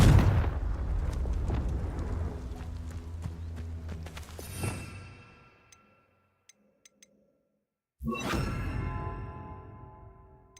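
A Confringo fire spell explodes in the Hogwarts Legacy video game, a loud booming blast with rumbling debris that fades into near silence, then a second heavy burst erupts and rumbles on.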